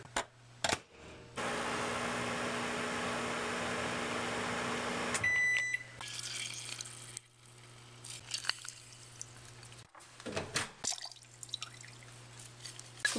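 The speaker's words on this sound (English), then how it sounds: "We're going to pop them in our microwave." A kitchen microwave heating at least four limes hums steadily for a few seconds with a bright electrical buzz, then stops with a short beep, followed by quieter clicks and handling sounds.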